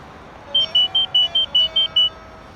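An old Nokia mobile phone ringtone plays as a rapid run of about eight short, high electronic tones in a quick melodic rhythm, clear and fairly loud over a low background hum, with no one speaking.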